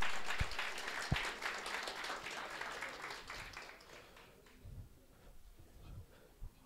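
Audience applause at a township small-business pitching workshop, a dense crowd clapping that fades out over several seconds, leaving scattered individual claps and light room noise.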